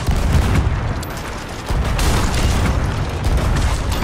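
Heavy booming ship cannon blasts and rumbling impacts in Sea of Thieves pile up in a loud, dense barrage, firing repeatedly amid chaotic noise.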